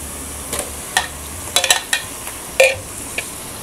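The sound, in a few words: chicken mince frying in a pan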